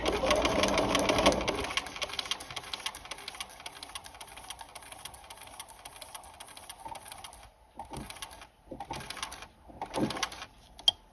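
Sewing machine stitching collar and lapel facings, a steady mechanical whir for several seconds, then short separate bursts of stitching near the end, close and moderately loud.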